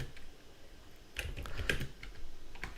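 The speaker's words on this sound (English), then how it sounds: "let's just type that into our little computer here" Rapid keystrokes on a computer keyboard, a light patter of taps that grows busier in the second half, close and clear with no talking.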